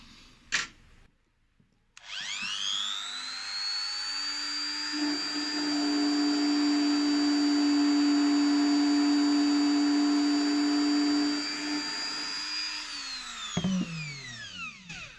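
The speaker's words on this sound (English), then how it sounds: "I'm going to spin the motors using the Dremel" A Dremel rotary tool spins a small electric motor that is being checked for burn damage. It gives a loud, steady high-pitched whine that holds for about eleven seconds, then winds down, with no talking.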